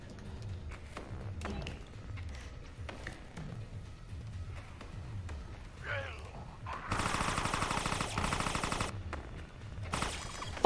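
Shotgun fire in the game Resident Evil Resistance, with repeated heavy thumping shots early on, then dense, sustained blasts of gunfire that crackle loudly for a couple of seconds and return briefly near the end.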